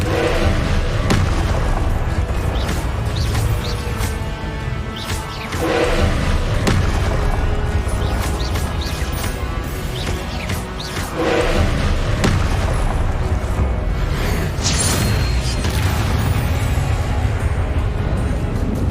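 Confringo fire spell blasts in Hogwarts Legacy on PS5: repeated loud booming explosions with deep thuds and crackling bursts, several distinct hits spaced over a continuous rumbling combat din.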